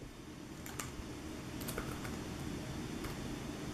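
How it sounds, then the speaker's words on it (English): Typing on a small laptop keyboard, a One Mix 3 Yoga running Ubuntu Linux, entering a terminal command: a few sparse, faint key clicks over a steady background hiss. "I'm going to open in the terminal window here and type xrandr hyphen O left"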